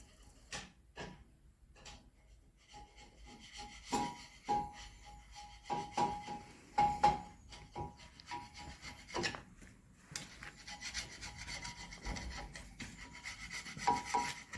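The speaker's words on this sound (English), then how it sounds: "just cleaning the face up, ready for the flange seal" Scraping and rubbing strokes as a face on a Manitou part is cleaned up ready for a flange seal, uneven bursts of rasping friction with short pauses, fairly close and moderately loud, with no talking.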